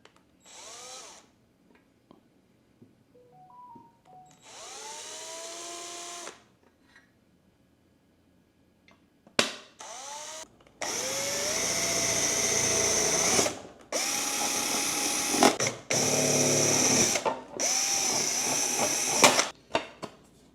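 A power drill punches holes in a fabricated mounting plate for a Starlane dash install, in several bursts of loud whirring that rise in pitch. The bursts are broken by pauses and handling noise, with no talk.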